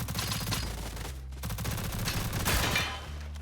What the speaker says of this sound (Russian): слышу выстрелы и бегу на них, где убиваю игроков.